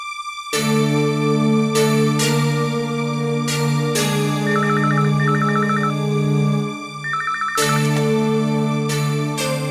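A telephone number dialed in a Tamil TV serial scene: two short runs of rapid keypad beeps sit over loud, steady background music, with no speech.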